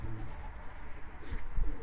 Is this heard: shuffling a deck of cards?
no